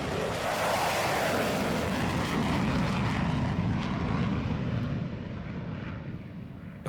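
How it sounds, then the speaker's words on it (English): An F-22 Raptor fighter jet blasts off down a runway with a loud, broad, roaring engine rush that holds steady and then slowly fades as it pulls away. "Well, guys, there you have it, the mighty F-22 Raptor."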